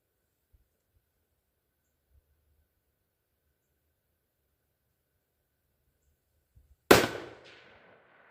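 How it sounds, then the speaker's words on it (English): A 6.5 Grendel rifle fires a single 100 grain Barnes TTSX round outdoors at boards 100 yards away: a sharp, loud crack after long near-silence, followed by a fading echo. "So let's get to shooting and see what kind of results we can get."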